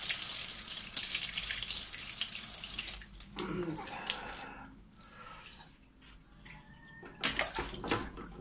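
Water running from a tap fed through a Paloma PH5 gas water heater, a faint steady splashing hiss with soft drips and a few knocks, no voices.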